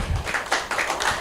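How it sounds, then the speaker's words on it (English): A small audience at a talk gives a brief round of clapping, a handful of sharp, close hand claps in quick uneven succession over about a second. "Please clap for him."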